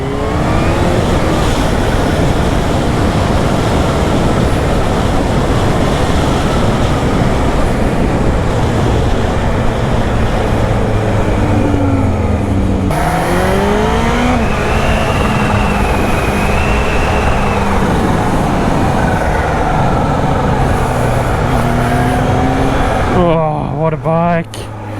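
A 2021 Kawasaki Z H2 motorcycle engine roars while riding, loud and steady under wind rush, rising and falling through gear changes and revving near the end, with a rider talking over it.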